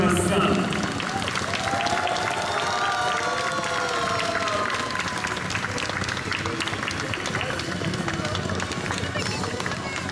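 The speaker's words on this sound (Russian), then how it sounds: "На площадку приглашаются спортсмены. Под ваши бурные аплодисменты, дорогие друзья." Audience applause greets athletes entering a freestyle skiing championship opening ceremony in Russia, steady clapping from a large crowd under music, with an announcer speaking over it.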